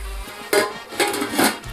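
A metal lid is set onto a cooking pot of masala bhaat with peas, covered to steam over low heat; two or three brief clanks and clatters sound close by with no talk.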